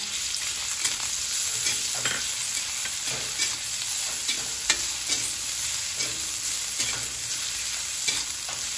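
Plenty of ginger frying in cooking oil, a steady close sizzle with scraping stirs at irregular intervals throughout.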